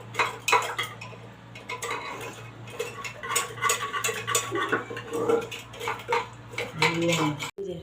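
A spoon stirs a mixture into milk in a metal pot for payesh, making irregular close clinks and scrapes against the pot, fairly quiet and uneven.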